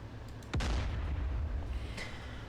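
A single heavy tank cannon shot in DCS Combined Arms, one sharp boom followed by a long rumbling decay, with a faint distant report trailing behind; no voices.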